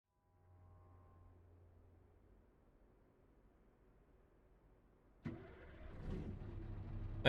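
A Scania Next Gen truck in Euro Truck Simulator 2 idles quietly with a low hum, then its engine suddenly rises into a louder, rougher running roar for the final couple of seconds.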